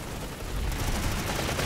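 Gunfire in Planetside 2 hits the player from behind as a dense, continuous crackle of rapid shots that swells louder after the first half second and stays close and steady.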